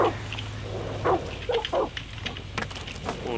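Dog in the video game Far Cry 6 giving a few short barks and whimpers, close and fairly loud over faint game ambience.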